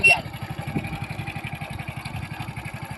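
A motorcycle engine idles with a steady, rapid low thumping throughout, close by, while voices talk faintly over it.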